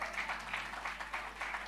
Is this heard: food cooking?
no